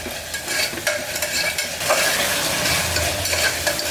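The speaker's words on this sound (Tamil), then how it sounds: "இல்லைன்னா காஞ்ச மிளகாயும் கிள்ளி போட்டு நம்ம தாளிச்சிக்கலாம்" Green or dried chilies tempering in hot oil for a Kongu-style mutton bone broth curry, giving a loud, dense, continuous sizzle with scattered crackles and stirring scrapes, close and unbroken by speech.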